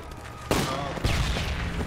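Shotgun blasts in the military shooter game Project Reality, two sharp loud booms about half a second apart with rumbling tails, over faint background noise.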